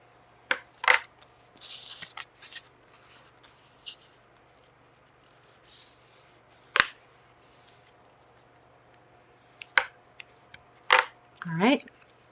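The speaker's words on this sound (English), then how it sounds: "I'm going to fold the other direction now" Paper folded into an origami box gives sparse crisp creases and rustles, short sharp crinkles and sliding scrapes spaced across a quiet background, close and fairly faint.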